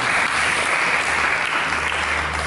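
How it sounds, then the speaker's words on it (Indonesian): A church congregation claps for God during a sermon, a steady, full burst of applause close and even throughout, with a low hum beneath. "Berikan tepuk tangan bagi Tuhan."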